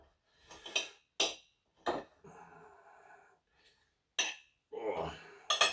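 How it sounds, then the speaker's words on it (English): A knife clinks against a plate while cutting a meat-filled keema naan in half, giving several sharp, separate taps and scrapes spread unevenly over a few seconds, with a brief murmur of voice in between. "So what I'm going to do is use a knife to cut it in half."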